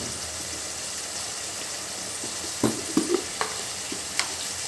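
Tomato curry with turmeric sizzles steadily in a pan, a continuous close frying hiss broken near the end by a few short stirring scrapes and clinks.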